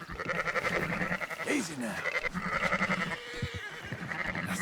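Sheep bleat repeatedly in the video game Red Dead Redemption while being herded on horseback from a farm, wavering cries over the rider's calm spoken words.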